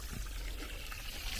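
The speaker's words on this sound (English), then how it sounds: "That's a footpath that's draining off, if you can see." Water trickling and pouring as it drains off a footpath in a village, a steady low wash that continues without a break from start to finish.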